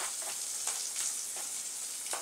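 Finely chopped onion fries in melted butter in a pan with a soft, steady sizzle, broken by a few short spitting bursts at irregular intervals; no one talks.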